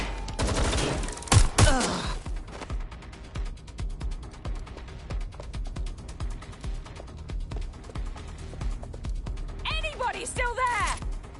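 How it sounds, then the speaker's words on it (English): Rapid bursts of gunfire in the game Watch Dogs Legion crackle almost continuously, sharp closely spaced shots with mechanical clatter, while brief voices break in near the start and end. "Being shot at here!"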